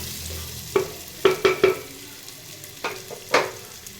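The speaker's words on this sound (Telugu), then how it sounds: "ఉల్లిపాయ వేసేసుకోవాలి. మంచిగా వేగిన తర్వాత" Onions frying in a pan for soybean vegetable biryani sizzle softly beneath several sharp spatula knocks and scrapes against the pan, spaced irregularly and close by.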